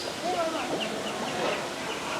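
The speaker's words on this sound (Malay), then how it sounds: "Anak-anak itik ni." Ducklings chirp and peep in quick, high bursts, mixed with fowl clucking, while a person talks nearby.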